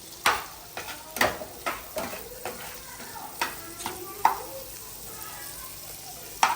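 Chopped green chillies frying in hot oil in a home kitchen pan, a steady soft sizzle punctuated by repeated clinks and scrapes of a stirring spoon against the pan, with a voice faintly in the background.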